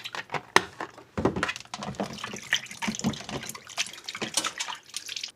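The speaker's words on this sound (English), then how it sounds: "now we're going to wash it with vinegar" Oxtail is washed with vinegar and water, making irregular close sloshing and splashing with drips and handling bursts in uneven rhythm.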